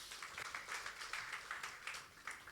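Congregation applause at a Sunday worship service in a church, a steady wash of many hands clapping at moderate distance, continuing evenly for a couple of seconds without speech over it.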